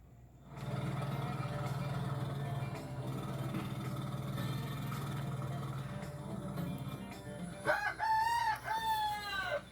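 A rooster crows loudly near the end, a rising-and-falling call that stands out over a steady low rumble heard through the rest of the recording.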